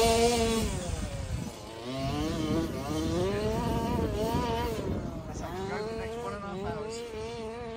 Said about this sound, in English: Send it off the ramp, Lenny.